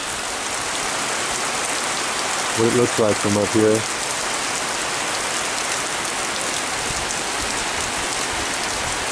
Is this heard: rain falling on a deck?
yes